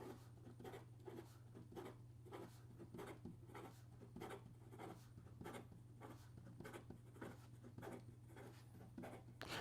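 Fountain pen with a Sailor nib scratching quickly across paper, a rapid run of soft, rhythmic strokes close up over a steady low hum.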